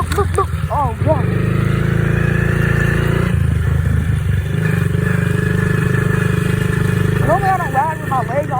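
A dirt bike engine drones steadily and close at riding speed, its pitch shifting as the rider works the throttle, with voices talking over it throughout.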